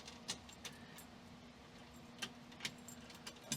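Keys jingle in a few short, faint bursts against a low steady hum, scattered and quiet, with no talking.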